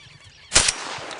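A single loud gunshot cracks out during a duck hunt in Argentina, a sharp blast trailing off quickly over a quiet outdoor background.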